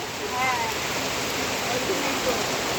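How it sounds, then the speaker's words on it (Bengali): Steady rain hissing down, a continuous wash of noise with a brief voice-like tone near the start. "অনেক দিন পর বৃষ্টি নামলো।"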